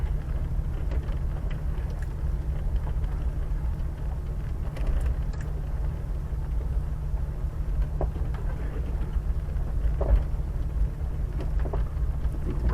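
A Jeep engine idles low and steady while off-roading, a continuous near rumble with faint knocks and rattles over it and no talking.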